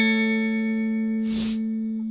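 Guitar chord with all strings plucked together: a clean, sustained ringing chord that holds steadily for about two seconds, with a brief noisy scrape in the middle, close and alone.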